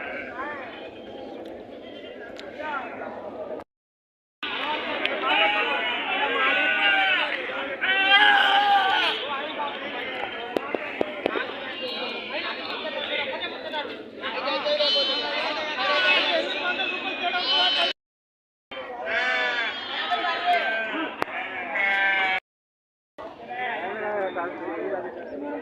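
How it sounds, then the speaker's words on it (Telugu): Sheep and goats bleat at a rural livestock market, a steady crowd of overlapping calls running through most of the stretch, with someone talking over them and the sound cutting out briefly twice. "ఇదంతా మేకల మార్కెట్ చూడండి."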